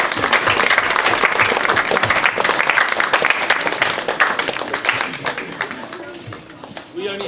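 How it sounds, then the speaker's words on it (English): A crowd gives loud, sustained applause for students at a Christmas science lecture, dense clapping that continues for several seconds with voices mixed in and a brief swell near the end. "another big round of applause for my amazing students who helped us out this year"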